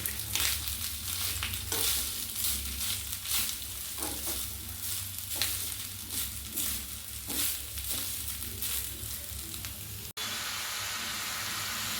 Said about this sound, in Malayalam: തേങ്ങ ചിരവിയ പീര ഇടാം. നന്നായിട്ട് ഇളക്കി കൊടുക്കാം.